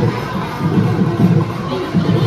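Dense crowd noise at Batu Caves in Malaysia: many voices chatter and shout at once in a loud, continuous wash, with occasional louder cries rising above the din.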